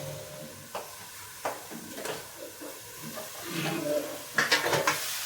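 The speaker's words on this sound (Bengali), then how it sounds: "চলে এলাম একটু নাড়তে, নাহলে তলায় লেগে যাবে।" Vegetables sizzling in a home kitchen pan while being stirred, with soft scraping and clinking of a spoon against the pan in irregular bursts over a low frying hiss.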